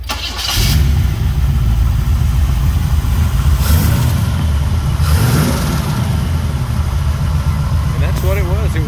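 A 1969 Chevrolet Camaro V8 cranks and fires, then settles into a loud, rumbling idle close by, with several revs rising and falling over it and a voice speaking briefly near the end.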